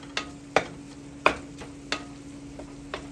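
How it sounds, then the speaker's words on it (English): Beef and pork sausage browning in a pan: a steady sizzle runs throughout, punctuated by several sharp taps or scrapes at irregular intervals, close and moderately loud, with no talking. "while my beef and pork sausage are browning"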